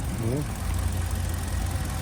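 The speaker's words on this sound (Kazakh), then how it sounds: "Машина оталып турат экен" A 2018 Lifan 2.0 petrol car idles nearby with a low, steady engine hum and faint knocking. A short voice sounds near the start.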